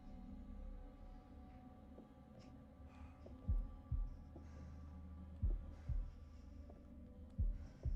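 Slow, steady heartbeat from The Dark Pictures: The Devil in Me during a tense keep-calm moment, paired thuds repeating about every one and a half seconds over a low droning hum, with no talking.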